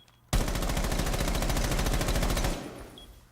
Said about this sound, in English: That's Buck's recoil, and I feel like I could really control it